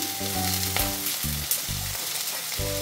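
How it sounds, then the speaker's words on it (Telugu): Tomatoes and onions frying in a pan, a steady close sizzle with stirring, while sustained musical tones play over it. "ఉల్లిపాయలు కూడా వేసుకొని బాగా కలపాలి"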